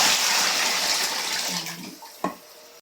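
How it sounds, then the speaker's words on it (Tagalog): Water pours into a pot from a kettle, a steady close gush that tapers off toward the end, with a small clunk as the pour stops. "Dadagdagan ko po yung tubig."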